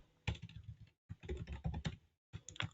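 Typing on a computer keyboard in three quick bursts of clicking keystrokes, close and distinct, with short pauses between them.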